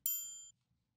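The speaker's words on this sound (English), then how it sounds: "It's just the triangle." One bright triangle hit from a beat's sample kit rings out with a shimmering, metallic tone and fades within half a second, alone and fairly quiet.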